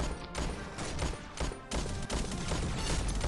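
Revolver gunfire in the mobile shooter game Pixel Gun 3D, a dense run of booming shots under loud game battle noise with no clear gaps.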